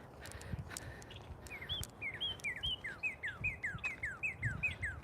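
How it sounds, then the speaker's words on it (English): Small birds chirp outdoors in a repeated run of short, bright calls that grow steadier and more regular, over a low rumbling background with faint scattered twittering. "You're hearing all the birds."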